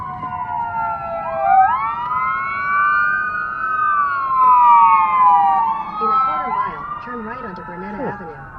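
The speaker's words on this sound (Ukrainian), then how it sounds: "Швидка знову включила, прямо на перехресті проїжджаючи." Ambulance siren switching on while crossing an intersection, loud rising and falling wail with a yelping phase near the end, heard from nearby traffic.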